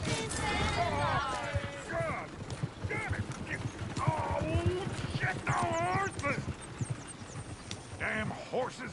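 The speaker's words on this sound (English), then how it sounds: "Damn horses!" Horses in the Red Dead Redemption 2 video game clip-clop with hooves on the ground and let out whinnying neighs, mixed with other in-game sounds while voices talk throughout.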